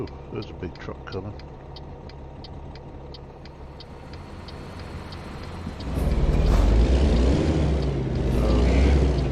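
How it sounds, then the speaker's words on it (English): A big truck passes in American Truck Simulator, a game setting, with a steady rumble that swells loudly and close after about six seconds. Earlier, a quieter engine drones under a regular ticking. "Ooh, there's a big truck coming."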